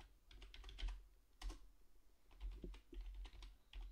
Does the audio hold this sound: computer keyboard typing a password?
yes